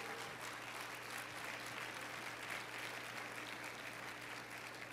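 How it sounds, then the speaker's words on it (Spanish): Congregation applause at a church service fills the space with dense, steady clapping, loud and continuous throughout with no pause. "dele un aplauso al Rey por eso"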